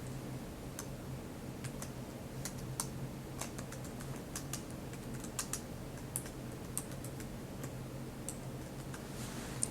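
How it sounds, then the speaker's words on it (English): Quiet, steady typing on a computer keyboard, with irregular light key clicks spread across the whole stretch and no talking. "And then you can just type in your message."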